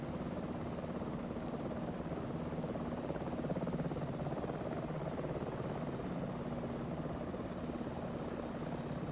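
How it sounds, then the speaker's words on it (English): An H130 helicopter in Microsoft Flight Simulator 2024 holds a steady, dense rotor and turbine roar from start to finish, loud and unbroken, with a faint whine running underneath. "Oh, the H130. Good looking machine."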